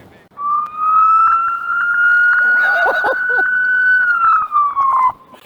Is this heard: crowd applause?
no